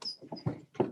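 A white Bernese mountain dog named White Sox whines close by in a quick run of short, high-pitched whimpers, with no talking over it.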